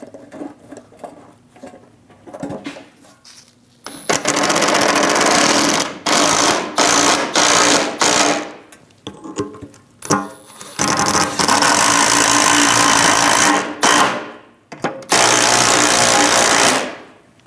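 Power tool, likely an impact gun, driving bolts into the power steering shield under a 2001-2006 Chevrolet truck: several loud, rattling bursts of a few seconds each, separated by brief pauses and quieter handling noise.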